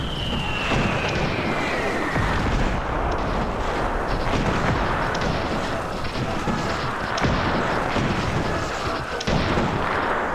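Mortar fire pounding towers in the 2002 PC strategy game Cossacks: Back To War, a dense, continuous roar of overlapping artillery booms and blasts at steady loudness across the whole stretch, with no talk over it.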